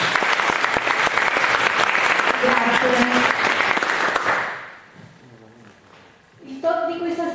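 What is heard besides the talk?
audience applause for a speaker at a talk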